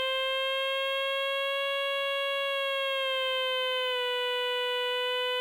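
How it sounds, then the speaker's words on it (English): A single sustained synthesizer tone, bright and buzzy with strong harmonics, holds steady with a slight pitch dip near the end. "turn off everything but this first oscillator. If I press a note"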